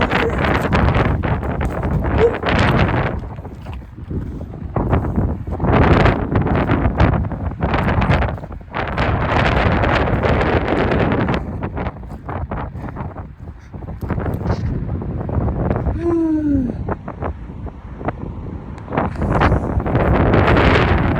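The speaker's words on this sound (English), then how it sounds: "The wind." Strong gusting wind buffets the microphone on a mountain trail near Chorillo del Salto, El Chaltén, Argentina, a loud continuous roar that surges and eases throughout.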